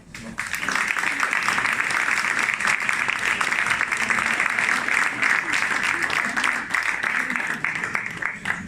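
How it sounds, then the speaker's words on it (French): A crowd applauds after the mayor of Bourges finishes a speech at the Mission Emploi anniversary event, the clapping loud and continuous from start to finish in an indoor hall. "Je vais remettre pour les applaudissements."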